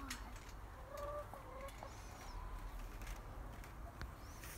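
A chicken clucks several times on a backyard trampoline, close by, its short calls standing out over a steady low rumble and background noise.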